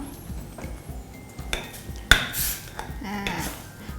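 Metal utensils scrape and clink against a pan as a Thai fermented soybean dip is stirred over lowered heat, with a few sharper knocks among softer sizzling scrapes.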